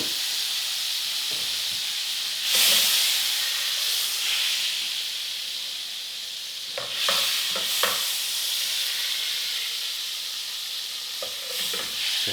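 Flounder coated in lightly seasoned flour fries in butter in a hot pan, producing a loud, continuous close hiss and sizzle that swells at moments, with a few soft knocks.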